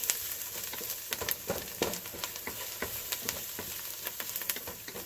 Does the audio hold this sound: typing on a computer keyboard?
no